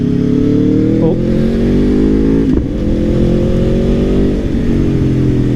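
Aprilia Tuono V4 Factory motorcycle on a summer ride, its V4 engine droning loud and steady with harmonic tones rising and falling through gear changes, wind rush underneath throughout.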